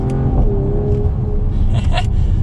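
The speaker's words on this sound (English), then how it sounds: "We'll go ahead and downshift still in manual mode here, and you can tell it gets quieter." A 2020 Mercedes-AMG GT 53 engine just after a downshift with the drive mode set back to comfort, a low steady rumble from inside the cabin with a brief whir and scrape near the end.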